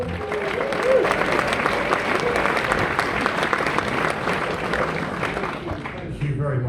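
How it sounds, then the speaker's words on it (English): Warm, sustained applause from a comedy club audience greeting a comedian, steady dense clapping filling the room for several seconds and thinning slightly toward the end. "I can tell by the warm applause you've got no idea who I am"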